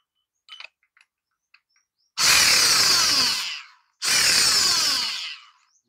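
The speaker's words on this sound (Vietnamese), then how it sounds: "Mày nhét mũi khoan là nó khoan thôi," A Makita BR-38E rotary hammer drill, 100 V with a 5 m power cord, runs in two loud, steady bursts of about a second and a half each, separated by a short pause and preceded by faint clicks and handling.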